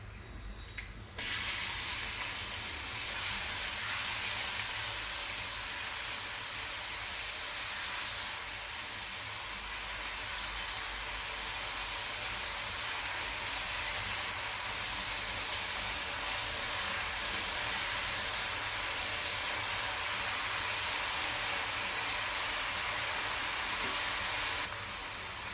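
Chopped onions dropped into hot oil in a pan with bay leaf and garlic give a sudden start of loud, steady sizzling that holds evenly for over twenty seconds, close and alone, then cuts off abruptly.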